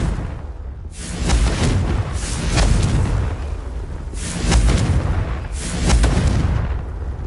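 Confringo blasting-curse explosions in Hogwarts Legacy, several deep booming blasts in a row with rumbling tails, loud and close, no talk.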